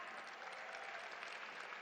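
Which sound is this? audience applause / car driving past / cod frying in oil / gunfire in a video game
audience applause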